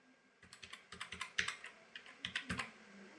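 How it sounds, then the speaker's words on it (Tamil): A quick run of keystrokes on a computer keyboard as a 12-digit Aadhaar number is entered, about a dozen crisp taps in a steady rhythm, close and fairly quiet with no talking. "உங்களுடைய அந்த 12 டிஜிட் ஆதார் கார்டு நம்பரை கரெக்டாக வந்து டைப் பண்ணிக்கோங்க"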